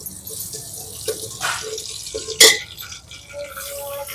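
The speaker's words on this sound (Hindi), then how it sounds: "हम दाल से पानी निकालेंगे।" Water being drained from raw lentils in a village kitchen, a few brief splashes and trickles with drips, one louder pour near the middle, otherwise quiet and close.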